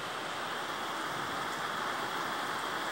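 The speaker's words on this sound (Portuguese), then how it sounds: "Na verdade, já tá grossa a chuva, gente." Heavy rain falling at night in Poços de Caldas, a steady, even hiss of rainfall without pause and fairly quiet overall.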